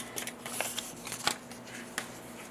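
Scissors snip through paper for paper flower centers, a series of quiet close crisp cuts and rustles at an irregular pace, with no talk.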